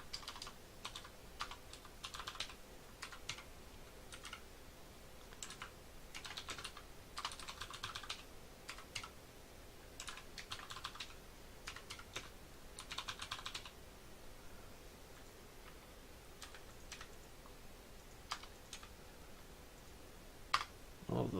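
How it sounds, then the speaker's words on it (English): Typing on a computer keyboard, entering an airlock distance setting in short bursts of quick key clicks with pauses between, fairly close and alone without talk. "So it can be typed like this."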